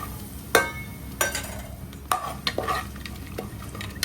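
Whole spices such as cinnamon, cloves, star anise, fennel and bay leaf frying for pulao in a pan, a soft sizzle under several sharp metallic scrapes and clinks of a spoon, close and irregular.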